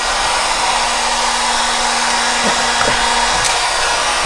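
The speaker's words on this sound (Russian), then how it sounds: "В принципе, так и должен работать фен." A BORT hot-air dryer with a display, set to 250 degrees, blows with a loud, steady whooshing roar and a constant motor hum. Faint clicks sound now and then.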